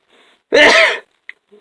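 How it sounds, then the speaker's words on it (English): A single sharp sneeze, loud and close, followed by a faint click and a soft breath. "Ooh, but sneeze."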